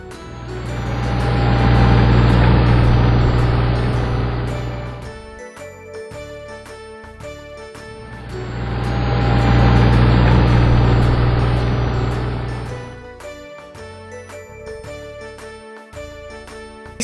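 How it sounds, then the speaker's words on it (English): Tractor hauling a hay baler runs in two loud surges of deep engine roar, each fading into quieter mechanical ticking and clinking between passes. "Tractor with a queer hay baler."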